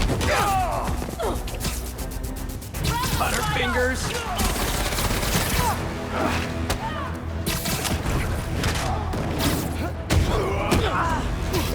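Gunfire bursts from the video game Marvel's Spider-Man 2, scattered shots and crashes running under a busy combat mix with voices talking throughout.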